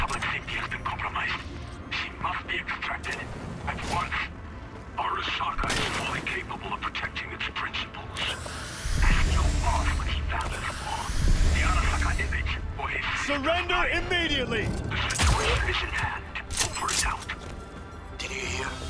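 Gunfire in Cyberpunk, with a series of sharp cracks and a volley of shots spread through the clip and a heavier, booming stretch in the middle, all mixed with in-game voices speaking.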